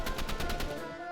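Rapid automatic gunfire from a shooter video game, a fast steady burst of close, loud shots that tails off toward the end, with no talking.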